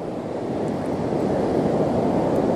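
Ocean surf at a beach on South Padre Island, Texas, with rough water: a continuous loud wash of breaking waves and rushing foam, steady throughout with wind noise on the microphone.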